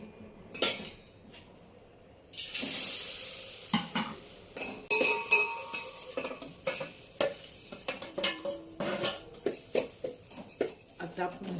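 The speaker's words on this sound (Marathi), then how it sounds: "आता आपण गूळ वितळवून घ्यायचा आहे, पूर्ण पाक करायचा नाही." Jaggery melts in ghee in a pan while a spoon stirs it for sesame laddus, giving a soft sizzle under repeated sharp scrapes and clinks of utensil on metal in an uneven rhythm, with nearby talk.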